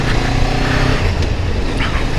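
A small Honda CBR motorcycle is ridden, heard as a steady, loud engine drone with heavy wind rush throughout, with no clear changes in pace.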